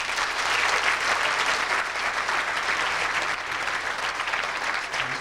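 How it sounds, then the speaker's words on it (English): A pageant audience applauds a contestant's parents with a sustained, even round of clapping from a sizable crowd, loud and steady throughout. "let's give them a round of applause"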